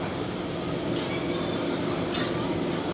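A steady, loud rumble of a train running on the second floor of a shopping mall, continuous throughout with a faint higher whine rising briefly twice.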